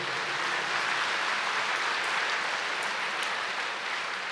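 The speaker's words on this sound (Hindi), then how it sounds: "फिर ताली बजा लो, ताली तो फ्री है" A large crowd at a Brahma Kumaris spiritual gathering claps in a continuous, even wash of hand claps that holds at a steady level throughout.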